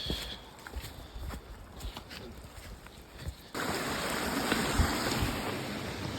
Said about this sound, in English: Got a nice little waterfall.